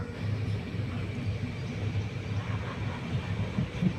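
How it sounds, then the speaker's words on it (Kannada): Steady low rumble and rhythmic clatter from inside a moving passenger train on a journey from KRS toward Arsikere, continuous and fairly loud with no talking. "ನೋಡಿ ಈಗ ಟ್ರೈನ್ ಹತ್ತಿದ್ದೀನಿ ನಾನು"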